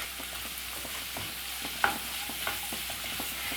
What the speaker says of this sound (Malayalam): ഇതിലേക്ക് നമുക്ക് ക്രഷ് ചെയ്ത് വെച്ച ഇഞ്ചി വെളുത്തുള്ളി പച്ചമുളകിൻ്റെ ആ ഒരു പേസ്റ്റ്